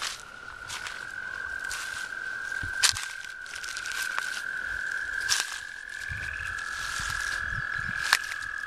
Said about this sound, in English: we do have some upland coarse frogs calling too. Just now heard them.